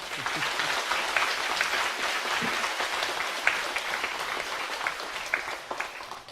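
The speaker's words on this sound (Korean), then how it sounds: "다시 한번 힘찬 박수 한번 보내주세요" A congregation at a Won Buddhist ceremony conferring dharma titles and robes claps warmly, a steady, moderately loud wash of applause from many hands that holds even throughout without talking over it.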